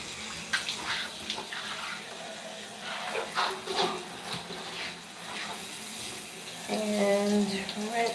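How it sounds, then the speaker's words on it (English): Running water rinses conditioner out of hair in a steady, close splashing stream that swells near the end, where a voice briefly speaks. "rinse off the remaining conditioner on this side, and this side, and this side"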